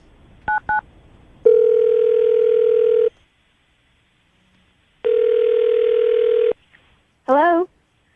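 A telephone line during an outgoing call plays a few quick dialing beeps, then two long steady tones that are loud and clear, separated by silence, and ends with a short warbling ring tone.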